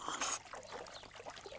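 Water trickles briefly into a cup, a short close pour that fades into soft, faint sloshing.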